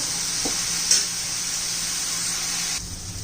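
Tomatoes and fenugreek cook in a pan with a steady, bright hiss of sizzling and a brief clink near the start, fading slightly at the end.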